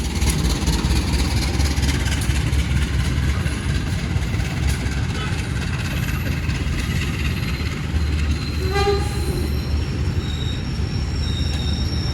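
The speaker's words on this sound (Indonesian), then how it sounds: "Kereta api Sri Tanjung ya, baru masuk stasiun Wonokromo teman-teman" The Sri Tanjung passenger train rumbles steadily into Wonokromo station with a low, heavy engine drone, its wheels and carriages sounding close, with faint squeals and a brief tone near the end.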